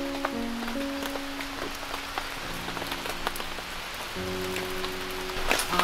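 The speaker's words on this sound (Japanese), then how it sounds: "今日撤収の日の雨。" Steady rain patters on a campsite, dense close droplet ticks across the whole stretch with a few louder drips near the end, under a faint sustained low tonal hum.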